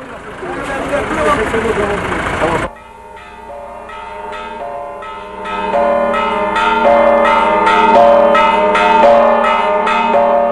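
Church bells ring at dawn in Bethlehem, a steady series of clear, resonant strikes building and sustaining after a loud burst of voice-like sound at the start.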